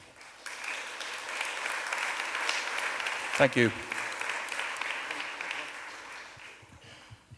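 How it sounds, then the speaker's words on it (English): Sustained audience applause at a keynote conference session, a steady moderate roar of many hands clapping, with a brief spoken thank-you over it midway before the clapping fades out. "if we can give her a round of applause again"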